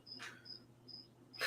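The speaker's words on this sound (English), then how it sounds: "Crickets? Crickets." Sound-effect crickets chirping in a quiet setting: a steady, high, repeated trill of evenly spaced chirps, moderately loud, with two short noisy bursts at the start and end.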